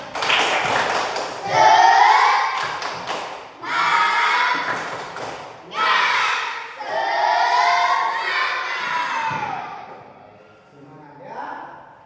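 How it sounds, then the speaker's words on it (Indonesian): Classroom children perform a rhythmic spirit clapping chant, bursts of loud group clapping and shouted chanting in repeated phrases, close and energetic, trailing off at the end. "tepuk semangat."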